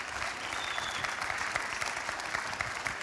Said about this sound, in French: je vous demande un dernier tour d'applaudissements de nos intervenants et intervenantes